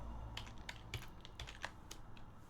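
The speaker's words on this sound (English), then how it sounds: "there's one thing I need to type" Quiet, close keystrokes on a computer keyboard tap out a short, irregular burst of typing, roughly a dozen soft clicks over a couple of seconds.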